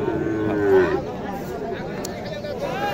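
Cattle low at a bustling cattle market in Naogaon's Mahadevpur, mixed with crowd chatter and talk, one louder moo rising near the middle against steady market hubbub.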